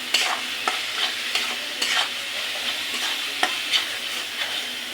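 Food stirred and fried in a pan, sizzling steadily with repeated scraping strokes of the spoon at an irregular rhythm, close and fairly loud, with no talk.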